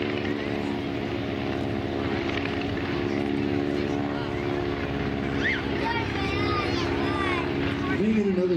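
A Stearman biplane's propeller engine drones steadily overhead throughout, loud and continuous, while a voice speaks briefly near the end.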